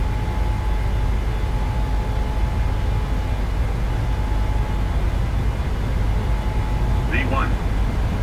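A Boeing 737-800 at takeoff (TOGA) thrust on runway 35R at Casablanca Mohammed V Airport, heard as a steady, unbroken broadband jet roar with a faint whine riding on it and a brief chirp near the end.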